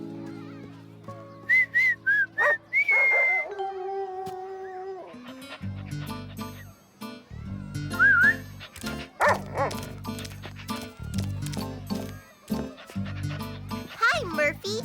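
A boy's whistle calls a dog in a cartoon scene, with short whistles and a rising whistle over a music score, followed by the dog barking and yipping and characters talking.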